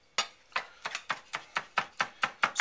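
A kitchen knife minces two squashed garlic cloves on a board, giving ten sharp, evenly spaced chopping taps close up, each with a short decay and no talking.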